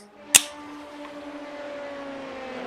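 A juice drink can with mango from an Italian maker snaps open with a single sharp crack, followed by a faint steady fizz and a low hum in the background.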